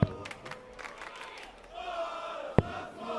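The crowd at a professional darts semi-final cheers and chants in a large arena, a steady, moderately loud roar with one sharp bang near the end.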